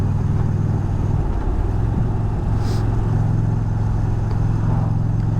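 An Indian Challenger Dark Horse bagger motorcycle pulls steadily in third gear, its engine droning loud and continuous under wind rush, with one brief gear-change dip.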